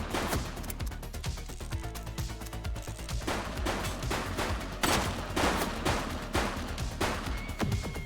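Dense gunfire in the police game The Precinct, rapid overlapping shots and bursts crackling continuously with a heavy, echoing crash near the middle, loud and close throughout.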